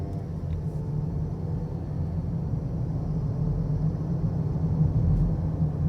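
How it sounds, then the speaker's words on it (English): A 2021 Ford Bronco Sport Badlands accelerates normally, heard from inside the cabin as a steady low engine and road rumble that swells slightly over several seconds, with no talk. "when you're normally accelerating, the transmission is actually pretty smooth"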